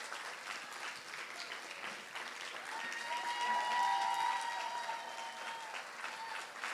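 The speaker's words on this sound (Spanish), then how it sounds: "Charly, lo recibimos con un fuerte aplauso" An audience applauds steadily at a podcast workshop, the clapping swelling toward the middle and then tapering slightly, heard from a moderate distance.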